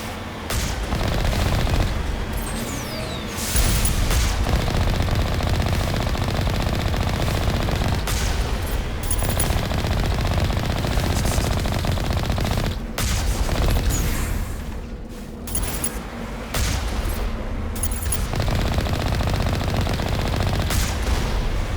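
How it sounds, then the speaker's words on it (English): Enemy gunfire in the video game Mass Effect: sustained automatic bursts and booming shots, loud and dense, with brief lulls between volleys. "Ooh, they're shooting me."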